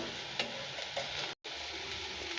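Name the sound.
Malabar spinach stalk fritters frying in oil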